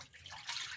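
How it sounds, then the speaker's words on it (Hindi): Water pours into a cooking pot holding blueberry syrup, a steady close splash and trickle that runs for under a second with no voices over it. "अब हम इसमें शामिल करेंगे 1 लीटर पानी"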